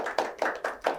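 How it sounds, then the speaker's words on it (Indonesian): An audience claps in unison to applaud hijab influencer finalists at a DIY event: four evenly spaced, crisp claps in about one second, close and moderately loud. "Tepuk tangan semuanya."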